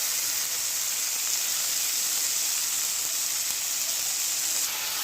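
Ginger-garlic paste hits a hot pan of onion paste and tomato, producing a loud, steady sizzling hiss that carries evenly from start to finish with no voices over it.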